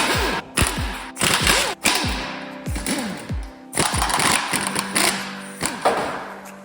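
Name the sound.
wrench removing 12mm bolts from a bracket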